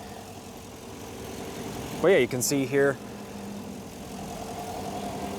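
A 2016 Chevy Silverado 1500 work truck idles steadily at close range, a low even rumble running throughout while someone talks briefly over it.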